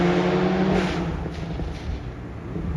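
A loud car engine and exhaust roar steadily close by, with a strong low rumble and a brief rising rev early on, heard alone without talk.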